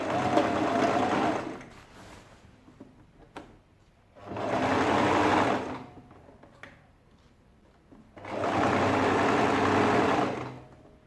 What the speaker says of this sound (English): So I'm going to sew at 1/2 inch. So back stitch as usual.